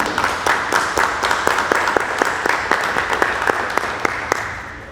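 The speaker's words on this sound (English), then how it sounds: "a round of applause for our administrative team as well." Applause at a school board of education meeting: a modest group clapping steadily, individual claps distinct and rhythmic, fairly close and moderately loud, easing off toward the end.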